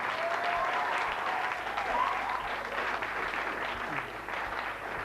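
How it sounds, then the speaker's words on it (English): A studio audience applauds on a 1993 regional TV quiz show, a dense, steady wash of clapping that fills the whole stretch at moderate volume. "Round of applause."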